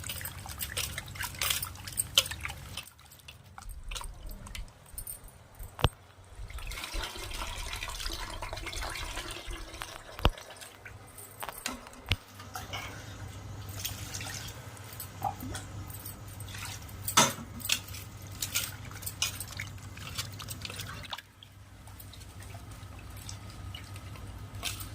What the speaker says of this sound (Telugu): నేనైతే చికెన్ కడుగుతున్నాను చూడండి.